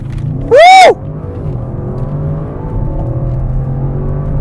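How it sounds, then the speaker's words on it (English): A 2021 Audi RS7 with its V8 engine accelerating hard in S mode: a loud, steady engine growl that swells continuously, opened by a brief high whooping shout from a person. "it's got that really nice V8 growl, very distinctly audible"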